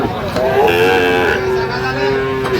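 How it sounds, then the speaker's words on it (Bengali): A three-month-old Friesian bull calf at the Aftabganj cattle market in Dinajpur gives one long, close, drawn-out moo over a bustling background of faint voices. "ফিজিয়ানের ষাঁড় বাচ্চা"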